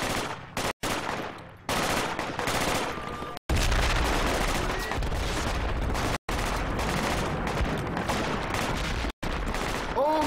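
Sustained suppressing gunfire rattles through a Project Reality firefight: dense, overlapping rifle and machine-gun bursts, loud and close, with a few brief cuts to silence and faint voices underneath.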